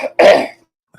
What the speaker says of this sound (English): Why are you coughing?